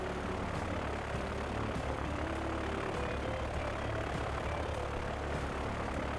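Aircraft engine drone from a plane flying past in the Transport Fever 2 game, a steady broadband roar that holds even and moderately loud throughout, with no voices.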